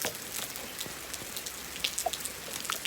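Light rain patters steadily on surfaces outdoors, with scattered close drips and plinks over a soft constant hiss and no voices.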